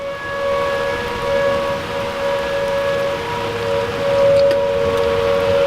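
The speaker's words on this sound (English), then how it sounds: "Tornado sirens are going off." Tornado warning sirens wail in long, steady, sustained tones during rain, with a constant hiss of rainfall underneath for the whole stretch.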